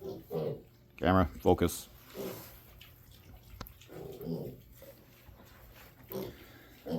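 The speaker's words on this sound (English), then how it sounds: "We got the pigs in already." Newly arrived farm pigs give a few short grunts and oinks in a quick cluster, heard between people talking nearby.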